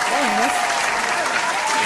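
Applause from a studio audience, a steady dense wash of many hands clapping at full volume, with a voice briefly sounding over it.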